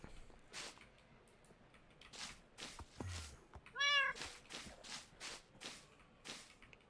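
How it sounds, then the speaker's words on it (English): In the Minecraft video game, a cat gives a single clear, rising-and-falling meow near the middle. Soft clicks and footstep-like game noises come before and after it, and no one talks. "Alright, I have my cat here now."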